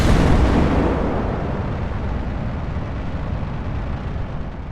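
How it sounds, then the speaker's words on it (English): A rocket lifts off in Kerbal Space Program with a loud, steady roar and rumble that starts at full strength and fades slowly over several seconds, with no voices over it. "5, 4, 3, 2, 1, liftoff."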